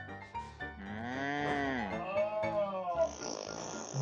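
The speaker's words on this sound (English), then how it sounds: "What does a cow sound like?" A long, low, wavering cow moo, loud and close, bends in pitch before fading into a short rough noise.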